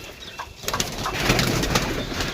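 A loft of about 170 pigeons coos in a soft, continuous murmur, with faint wing rustles over a steady background hiss.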